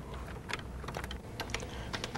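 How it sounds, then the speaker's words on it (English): Steady, irregular typing on a Color Computer keyboard as a program is entered, a run of light key clicks with no voices. "To see how this works, type this program in."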